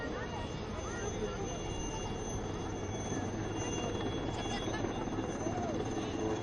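A Chetak military helicopter's steady, rumbling rotor and engine drone fills the air continuously at a navy show, with a loud announcer's voice speaking over it.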